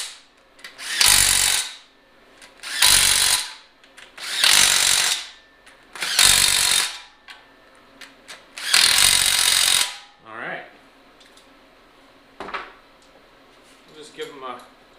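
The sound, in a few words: battery impact gun tightening oil pan bolts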